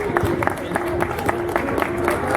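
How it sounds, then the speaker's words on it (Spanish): A crowd applauds to welcome a guest speaker from the Politécnico optometry program at the start of a session, the clapping dense and steady with a low hum beneath. "lo recibimos con un fuerte aplauso"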